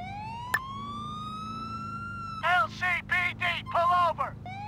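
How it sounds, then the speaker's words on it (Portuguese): Police car siren in a video game, a steady rising electronic wail held close and loud from the start, with someone talking over it in bursts during the second half. "Deixa eu desligar a sirene, que eu acho que isso tá me atrapalhando."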